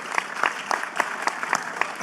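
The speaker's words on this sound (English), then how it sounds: "Can I get a round of applause?" Short burst of applause at a startup conference stage, a modest crowd clapping steadily for a couple of seconds.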